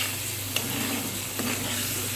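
Spices sauté in a pan while being stirred for a taro stolon curry, a fairly quiet, steady sizzle with a couple of soft scrapes and no voices.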